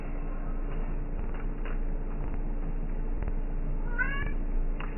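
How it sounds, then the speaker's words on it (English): A house cat meows in the background, a short rising cry near the end, over a steady hum of computer noise and faint clicks from a League of Legends game. "as you guys can hear, that's my cute kitty cat in the back"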